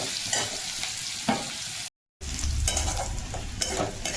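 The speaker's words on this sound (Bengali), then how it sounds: "দিয়ে আমি এটাকে লাল লাল করে ভেজে নেব" Pabda fish frying in a pan with salt, a steady close sizzle with stirring scrapes throughout, cut by a brief silent gap midway before the frying resumes.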